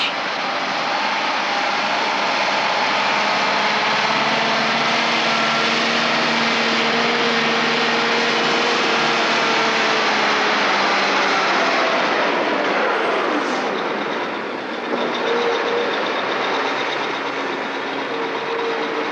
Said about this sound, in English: we'll travel along the Hudson Bay shoreline in a huge and unusual Arctic vehicle called a Tundra buggy